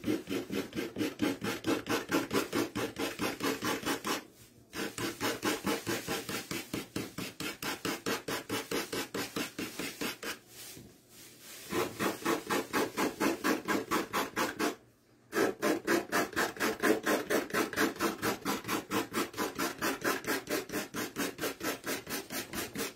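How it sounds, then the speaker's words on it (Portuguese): A nail file rasps along the edge of a decoupage piece made with Indian paper, in rapid, even back-and-forth strokes that are close and steady, with a few brief pauses. "Lixa de unha. Eu venho na quina"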